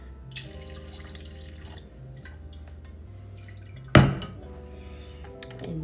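Water pours and drips into a blender jar while carrot juice is being prepared, a soft trickle with light glassy clinks and one sharper knock partway through, close and quiet, with no speech.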